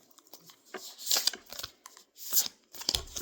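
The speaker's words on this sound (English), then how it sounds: "Let me shuffle." Soft riffling and slapping of oracle cards being shuffled in short bursts, close by and fairly quiet, with no talking.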